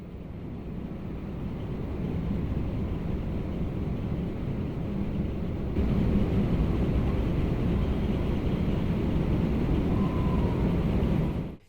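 Rescue helicopter in a Yakuza video game, a steady broadband rotor-and-engine roar that holds constant and swells slightly louder midway before cutting off abruptly at the end, with no voices.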